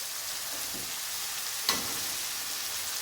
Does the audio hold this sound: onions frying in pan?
yes